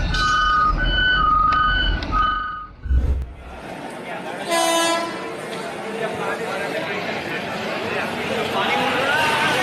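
Reversing beeps from forklifts moving around 100 tons of steel, a pulsing high beep at first, then a thump and a second warning tone over rumbling machinery, with voices chattering underneath.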